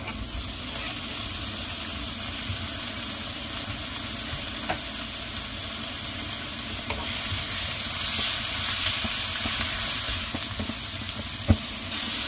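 Pork frying in a pan with browned garlic and onion, a steady loud sizzle with light stirring scrapes and a few sharp clicks near the end, no voices.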